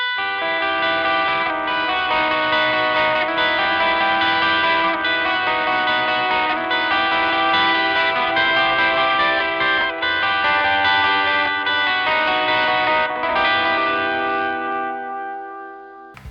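Electric guitar drenched in chorus, echo and reverb sustains shimmering, bell-like ambient chords for a song, a continuous wash of texture that swells and then fades out alone.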